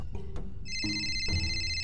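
A telephone rings in a Marathi TV serial scene, with a steady electronic ringtone tone that repeats and stays fairly loud and clear, with no talking over it.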